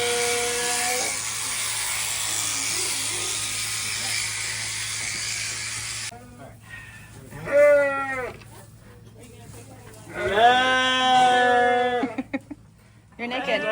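Sheep bleat on a farm during shearing day, a couple of loud, wavering calls rising close by after a steady mechanical hum of shearing clippers fades out, with people talking nearby.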